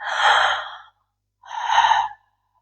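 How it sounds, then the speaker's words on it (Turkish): Two quick breaths in a connected breathing exercise, one right after the other: a deep, airy inhale followed by a slightly shorter exhale, close and clear with brief silence between. "Aldıktan hemen sonra beklemeden veriyoruz. Verdikten hemen sonra beklemeden alıyoruz. Bağlantılı nefes dediğimiz nefes tekniği."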